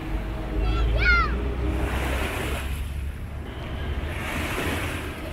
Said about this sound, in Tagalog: May kalakasan din yung hampas ng mga alon ngayong araw.